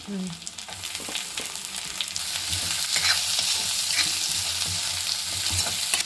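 Crushed garlic and whole onions frying in oil in a pan for a kuzhambu, a loud continuous sizzle with scraping stir strokes, building slightly as the onions go in.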